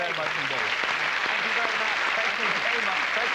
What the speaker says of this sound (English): Big round of applause for that catchphrase.